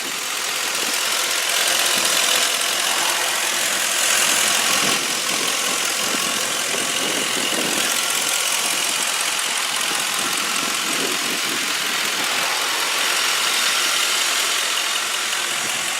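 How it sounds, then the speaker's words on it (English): A 2004 Mercury Grand Marquis sedan idles steadily and close, a smooth continuous engine hum holding an even level throughout, with no talking. "So I'm just going to be quiet and let you guys listen to the motor real quick."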